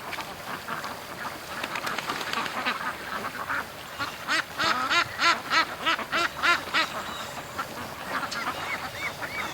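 A flock of ducks quacks at a creek on a busy morning, the calls overlapping, then rising into a loud rhythmic run of quacks midway before settling back into scattered chatter.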